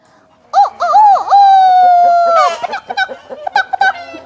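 A voice imitates a rooster's crow with a long drawn-out call, followed by a quick series of clucking sounds, loud and close.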